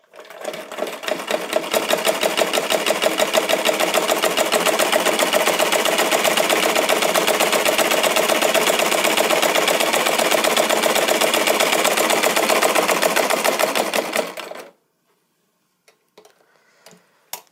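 A sewing machine runs steadily, stitching with a fast, even mechanical patter for about fourteen seconds before stopping abruptly into near silence.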